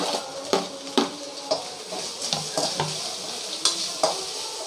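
Masala for chicken sambar fries in a pan over medium flame with a continuous sizzle, punctuated by regular sharp scrapes and taps of a spatula stirring, with no voices.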